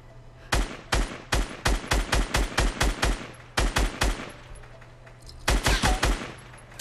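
Automatic gunfire in the video game Fortnite, sharp and close, fired in three rapid bursts with short pauses between them.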